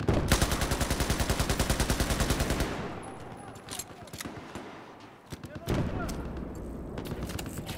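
Battlefield 4 gunfire, a rapid automatic burst of evenly spaced shots for a couple of seconds, then scattered single shots and distant fire, with a voice talking beneath.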